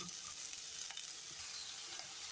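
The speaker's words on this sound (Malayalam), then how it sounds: "സവാള നന്നായിട്ടൊന്ന് ഇളക്കി കൊടുക്കാം." Onions sautéed and stirred in a frying pan for a papaya coconut-milk curry, giving a steady close sizzle with small scraping stirs, no voices.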